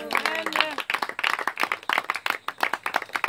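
A church congregation clapping to acclaim the Lord, rhythmic rapid handclaps building into steady applause after a brief voice at the start.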